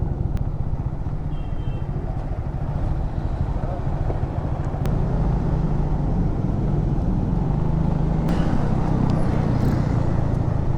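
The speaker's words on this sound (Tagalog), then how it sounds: "Ang daming truck." Heavy vehicles pass along a mountain road with a steady, loud engine and road rumble close by. A few faint clicks sit over the noise, and someone talks in the background.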